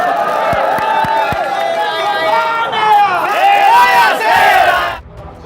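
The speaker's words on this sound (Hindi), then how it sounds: "सीएम के सम्मान में नारेबाजी हो गई, तालियां बज गई" A large crowd chanting slogans in honour of the chief minister, loud massed voices rising and falling with a few sharp claps near the start, then cutting off abruptly.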